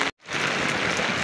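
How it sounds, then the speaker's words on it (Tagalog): Heavy rain pours steadily as a dense, loud, unbroken hiss, interrupted only by a brief cut near the start, with no voices. "Ang lakas po ng ulan ngayon."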